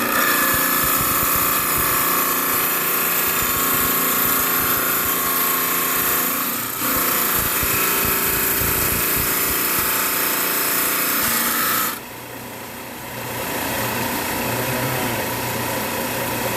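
A lapidary trim saw grinds steadily through rock, a loud continuous whine and buzz with a brief dip near the middle and a sharper drop in pitch and level toward the end as the cut changes.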